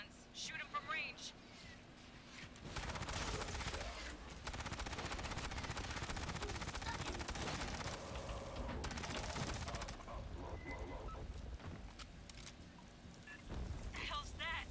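Sentry guns fire in a video game in long, rattling automatic bursts at moderate distance, and voices talk over the shooting.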